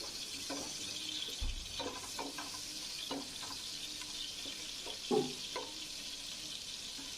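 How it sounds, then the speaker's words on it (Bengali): Shrimp frying in a pan make a continuous hissing sizzle with intermittent soft knocks and scrapes of a spatula, one fuller clatter partway through, all at low level. "আমি প্রথমে চিংড়িগুলো ভেজে নিচ্ছি।"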